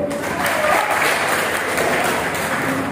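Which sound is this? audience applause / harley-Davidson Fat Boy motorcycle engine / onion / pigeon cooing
audience applause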